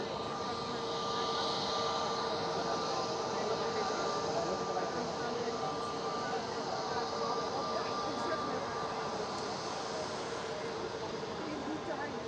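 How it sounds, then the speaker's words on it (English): Transavia Airbus A320neo arriving at Amsterdam Schiphol, a faint, steady engine roar with a thin whine, and low voices murmuring underneath. "And another Neo arriving."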